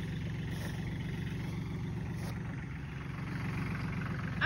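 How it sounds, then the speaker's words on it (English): A tractor engine runs steadily on a farm where rocks are being cleared with a plow, a constant low rumble with no clear revving and no speech. "Tractor's going"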